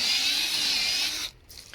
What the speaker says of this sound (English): So while Ivan's drilling away there